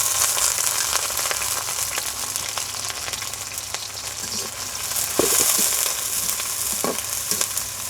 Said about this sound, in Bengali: কাঁচামরিচ পেঁয়াজ একটু নেড়ে ভেজে নিচ্ছি।